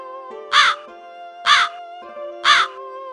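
A raven caws three times at a steady rhythm, loud and close, heard as a story sound effect over a faint sustained musical tone.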